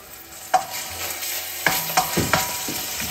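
Garlic and anchovies stir-fried in a pan over gentle heat for vongole pasta, with a soft sizzle under a few sharp scraping strokes of the spatula, close by and with no talking.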